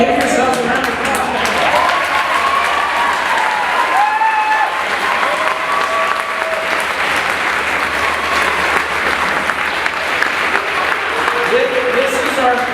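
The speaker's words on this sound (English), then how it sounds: "Give yourself a round of applause." Sustained, dense applause from a large audience at a camp's 35th anniversary celebration fills the whole stretch at a steady level, with cheers and voices mixed into the clapping.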